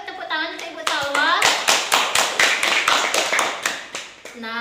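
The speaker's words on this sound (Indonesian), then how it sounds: "Yuk tepuk tangan untuk Ibu Salwa." A small group of women clapping hands in praise of one of them, a speaker's voice first, then a run of loud, evenly spaced claps close by, with talk resuming at the end.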